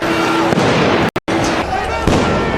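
Tear gas canisters and stun grenades go off in the streets of Jerusalem during clashes, a loud, dense burst of blasts and crackle with a sudden brief dropout, while voices shout through the din.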